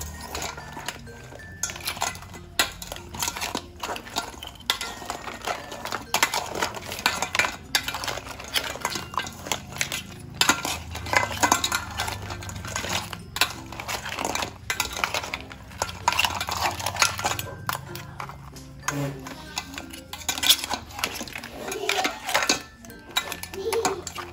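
Buttered garlic mud crab being stirred in a metal pan, with irregular clinks and scrapes of a utensil against the cookware as a voice talks over it.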